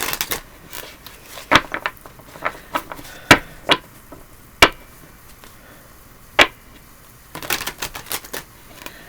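A double-sided card deck being shuffled makes sharp, papery snaps and clattering bursts at irregular intervals, close and fairly loud, with short quiet gaps between riffles and no talking.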